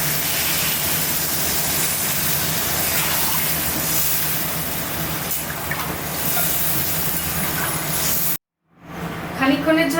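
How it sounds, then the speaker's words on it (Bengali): Water poured into a hot cooking pan while making paneer masala gives a loud, steady rushing hiss that lasts several seconds, then cuts to a brief silence before faint kitchen sounds return. "এবারে পরিমাণ মতো জল দিয়ে দেবো।"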